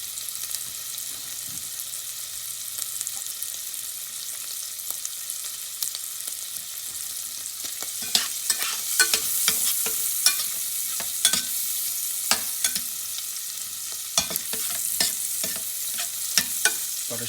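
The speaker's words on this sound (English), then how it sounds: "they're starting to fry up now" Eggs frying in browning butter in a pan crackle with a soft, steady sizzle, and sharper spatters and pops come up in the second half.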